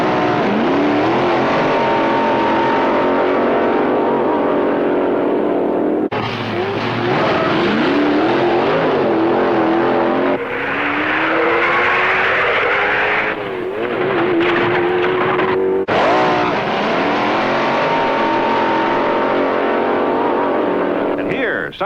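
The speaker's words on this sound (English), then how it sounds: "everyone certainly likes the funny cars, which are factory experimentals incorporating test features not found on showroom models" Funny car drag racers at the Pomona Winter Nationals roar past, engines revving hard and pitching up as they accelerate down the strip, with a narrator talking over the loud, repeated runs.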